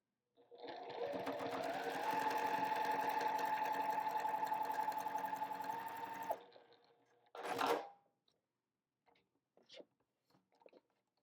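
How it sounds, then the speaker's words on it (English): A sewing machine runs a continuous stitching burst of about five seconds while sewing quilt pieces, its motor whirring loud and close, then a short clack and a few faint handling clicks follow in near silence. "we're going to need to sew another set of stitches as well"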